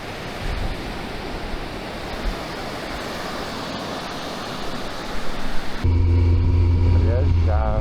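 Sea surf washing onto a Lithuanian Baltic beach, a steady broad roar of breaking waves up close, with wind buffeting in the last couple of seconds as louder rumbling takes over.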